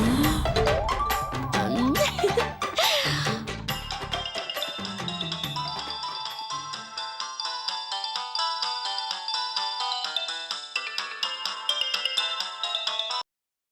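A mobile phone ringtone plays a bright repeating electronic melody as a call goes out to a lawyer, starting over a burst of music and then continuing alone, steady and moderately loud.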